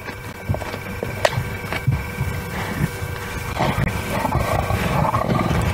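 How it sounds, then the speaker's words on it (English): Lions growl and squabble over a zebra carcass in the wild, with deep rumbling snarls and sudden louder roaring bursts that grow busier and more constant toward the end, close by and with no talk. "Listen to the growling. Now the squabbling starts."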